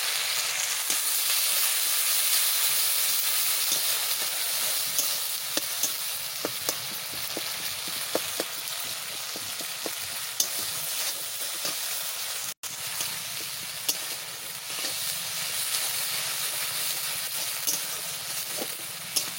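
Spice masala fries in a pan over browned onions with a steady, close sizzle and hiss, broken by frequent short scrapes and clicks of stirring, with no talking.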